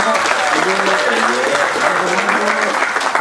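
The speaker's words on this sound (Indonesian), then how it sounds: "Tepuk tangan." Audience applause at a Balinese Wayang Cupak shadow puppet performance at the PKB arts festival, a dense steady wash of many hands clapping for several seconds with voices faintly mixed underneath.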